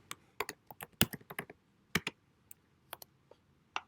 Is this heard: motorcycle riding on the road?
no